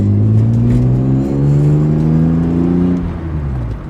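A BMW M3 fitted with a new exhaust and intake idles and blips its engine, producing a loud, deep, steady drone with rising and falling tones close by and no speech.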